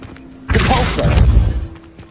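The Depulso spell lands with a heavy impact in the Hogwarts Legacy game, a sudden loud boom with crashing, shattering debris that swells for about a second and then fades.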